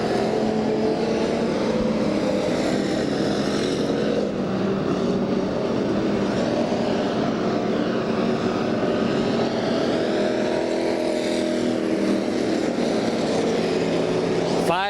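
Sprint cars race around the Bakersfield oval during a NARC event, their engines roaring loud and continuous in a dense, overlapping drone as the pack passes, with a brief sharper burst at the very end.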